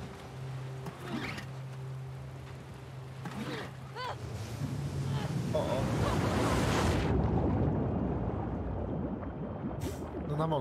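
Sea waves and wind in The Last of Us Part II; a rushing surge of surf and gusting wind builds and holds loud, with brief engine-like hum and a short voice early on.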